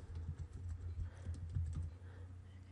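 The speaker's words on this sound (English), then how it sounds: "So I'll type the first couple." Keystrokes on a computer keyboard while entering times into an Excel spreadsheet, a quiet run of soft, irregular clicks over a low background hum.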